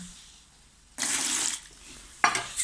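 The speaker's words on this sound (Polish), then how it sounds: "wodę wyleję" Water is poured out in two bursts, a longer splashing pour and then a short second splash, close by and alone against a quiet background.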